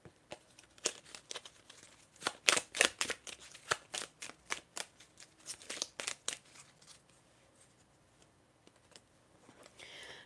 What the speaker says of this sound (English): I'm going to shuffle for more cards for you.